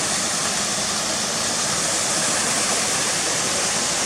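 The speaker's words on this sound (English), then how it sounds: "He's taking pictures of the waterfall and all." Janet's Foss waterfall pours in a dense, constant broadband rush, loud and close, with no other sounds breaking through.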